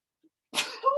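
A single short sneeze bursts out in a quiet classroom, preceded by a faint tiny sound and trailing off into a brief voiced tail.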